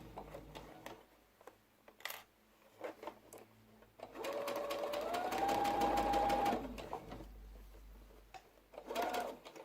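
A sewing machine stitches a cotton face mask in short bursts, then one longer steady run of rapid mechanical whirring, with pauses and soft handling clicks between runs.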